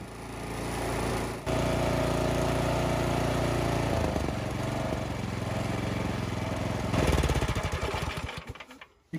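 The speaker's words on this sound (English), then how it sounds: "Once the engine is started, move the dial from choke to run." Close and loud, a Craftsman Select 26 snowblower engine runs with a steady, buzzing drone, its pitch shifting partway through and then surging before the sound cuts away at the end.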